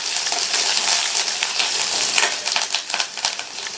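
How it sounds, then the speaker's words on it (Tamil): Crushed garlic sautés with fried lentils in a pan: loud, close crackling and sizzling mixed with quick metallic scraping and tapping of a spatula, with no voices. "பூண்டு சேர்த்துட்டு ஒரு 30 செகண்ட்ஸ் போல் நல்லா வதக்கி விட்டுக்கங்க."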